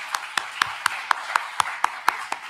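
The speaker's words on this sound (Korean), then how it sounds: "박수하겠습니다" Slow, evenly spaced clapping from a church congregation at a Sunday morning service, about ten crisp claps in steady rhythm, moderately close and with no talk over it.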